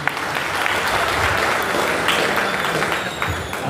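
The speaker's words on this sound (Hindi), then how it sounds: "पुरजोर तालियों से इस्तकबाल करें" Audience at a Karnataka Urdu Academy mushaira applauding to welcome a poet, a dense, even burst of clapping from a large crowd held steadily for several seconds.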